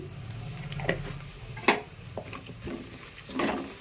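Masala with turmeric frying in a pan, a low crackling sizzle under a few scattered sharp scrapes and clinks of stirring.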